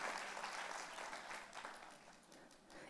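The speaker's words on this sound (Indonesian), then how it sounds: "Tepuk tangannya yang paling meriah buat Yesus Tuhan kita." Church congregation applauding Jesus during a Christmas service, a dense burst of many hands clapping that fills the room and fades slightly toward the end, with no voices over it.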